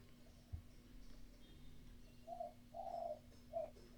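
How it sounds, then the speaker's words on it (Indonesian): A zebra dove (perkutut) coos in the background during an online chemistry class, with three soft, short, rolling notes near the end above a steady low hum. "Itu burung perkutut siapa itu?"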